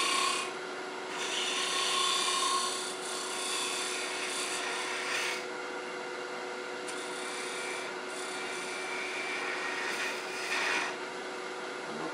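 A wood lathe spinning a wooden mushroom while a parting tool cuts the stem: a continuous rasping, scraping hiss over a low steady hum, rising and easing slightly in intensity, with no talk.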